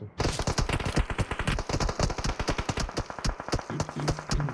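Rapid automatic gunfire in the PUBG Mobile battle royale game, a dense string of sharp shots in quick bursts, loud and close, with a faint tone near the end.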